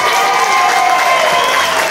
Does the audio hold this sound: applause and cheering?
yes